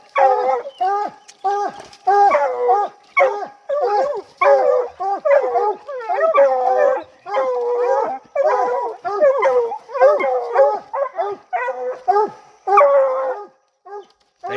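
Several hunting dogs bay and howl in repeated, overlapping bursts during a nighttime raccoon hunt in Florida, loud and close, with a handler's voice calling out among them.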